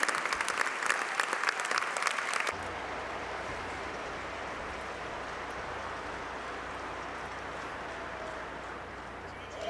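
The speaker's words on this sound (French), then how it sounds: "Une bonne main d'applaudissements." Applause at a national union congress, a hall audience clapping loudly at first, then giving way to sustained crowd murmur and ambient hall noise.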